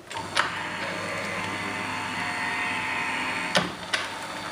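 A Sizzix Vagabond 2 die cutting machine runs a die sandwich through its rollers to dry emboss a floral coverplate, giving a steady mechanical whir with a few sharp clicks near the start and end.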